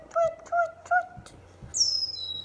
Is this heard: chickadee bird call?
yes